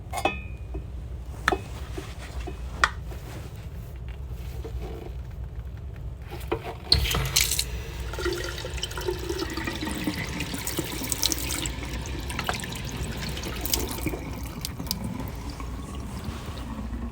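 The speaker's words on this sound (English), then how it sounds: "So I'm going to fill this with some water." Water runs from a tap into a cup for a dry ice experiment, a steady faucet stream with splashing that shifts in pitch as the cup fills, with a few soft knocks.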